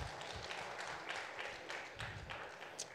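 Faint, scattered clapping from an audience at the Hari Hara Veera Mallu film song launch event comes in soft irregular bursts and sounds distant and subdued.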